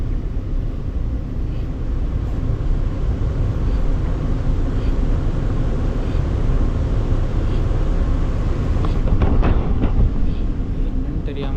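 Riding a Taiwan high-speed bullet train, a steady, loud, low cabin rumble and rushing noise runs unbroken for nearly twelve seconds, with faint clicks and shifts near the end.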